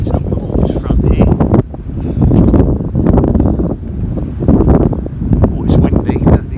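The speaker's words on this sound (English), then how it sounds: "it's windy, don't you hear me? It's very breezy along here." Strong wind buffets the microphone in steady roaring gusts along a waterfront, loud and close, with a person talking over it.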